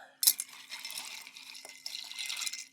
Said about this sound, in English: Both of these get ice. And a stir.